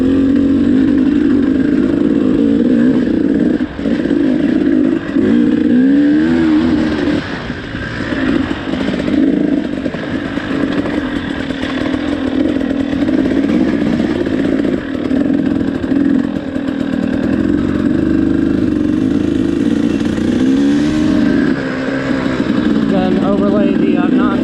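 Dirt bike engine ridden along tricky trails, recorded close from the bike, a loud continuous buzzing motor note that rises and dips with throttle changes over wind rumble, with occasional talk mixed in.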